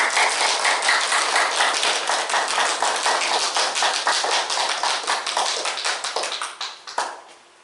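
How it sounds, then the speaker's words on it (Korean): A church congregation at a Sunday worship service gives dense, sustained applause welcoming the pastor, the clapping loud and continuous before tapering off and stopping abruptly near the end. "우리 한번 박수로 한번 환영할까요?"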